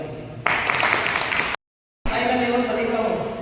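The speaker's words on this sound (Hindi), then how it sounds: "ताली मारो भाई।" A crowd at an open business team meeting claps in a loud burst of about a second. The sound then cuts to silence and resumes with voices and noise from the room.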